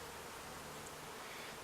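Faint, steady buzzing of a mass of bees being relocated into a top bar hive, a continuous low drone with no voices.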